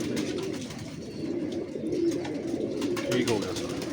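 Pigeons at a breeding loft coo in a low continuous rumble, several birds overlapping near the listener, with people talking faintly in the background.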